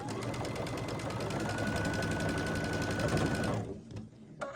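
A sewing machine runs steadily at close range, stitching quilt blocks placed right sides together along a quarter-inch seam, its rapid needle chatter continuous for several seconds before stopping abruptly, with a brief click afterward.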